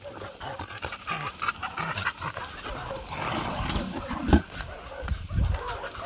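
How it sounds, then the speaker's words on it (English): Dogs at an animal shelter, panting and shuffling nearby amid a busy, noisy kennel background, with occasional brief louder bursts and no clear barking. "And up there, there are more dogs."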